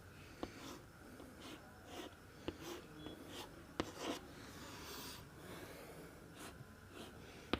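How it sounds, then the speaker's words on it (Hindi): Faint marker or stylus strokes scratch and tap across a board or tablet while chemistry is being written out, with soft irregular strokes and quiet breathing in the background. "दोनों को पहले यहाँ पे लिखते हैं।"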